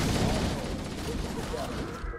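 Rapid bursts of gunfire crackle through a hectic Halo Combat Evolved Anniversary firefight, dense repeated shots heard close up under excited voices.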